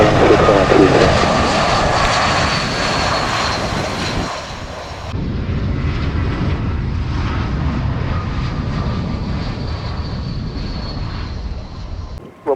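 An airliner takes off from Gibraltar International Airport, its engines roaring loud and broad throughout, shifting slightly in tone partway as the aircraft accelerates down the runway.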